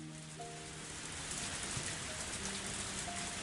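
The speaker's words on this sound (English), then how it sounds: "I didn't think it would rain so hard" Heavy rain pours down in the Higurashi: When They Cry video game, a steady, dense hiss of drops on surfaces that holds even throughout, alone and fairly soft.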